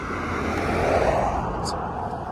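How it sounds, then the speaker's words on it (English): A newer pickup truck passing on a street in Climax, Georgia, giving a close, loud engine and tire roar that swells and fades over a couple of seconds, with a short high horn beep near the end. "Get a couple beeps. That was the newest truck in Climax, Georgia."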